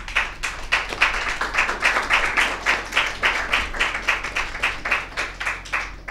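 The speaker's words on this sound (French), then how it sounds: "je vous demande de les applaudir" A small audience claps in a loose, rhythmic unison at a public address, a steady pulsing beat of hand claps about twice per second, close and fairly loud, with no speech over it.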